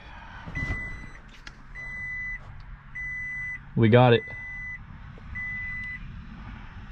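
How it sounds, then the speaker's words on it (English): A 2005–2015 Toyota Tacoma truck is switched on and gives a series of evenly spaced electronic beeps over a low idle hum, with a short spoken remark partway through. "We're gonna flick on the truck."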